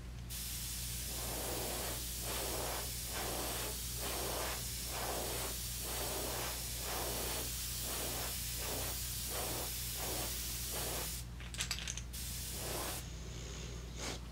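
Airbrush spray painting a baby bass lipless crankbait, a steady hiss broken into repeated short bursts as the sides are dusted with green, with a low constant compressor hum beneath and a few sharp clicks near the end.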